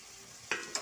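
Prawns hit a hot pan spiced with chilli powder and turmeric for biryani, giving two quick, faint bursts of sizzling and stirring close by.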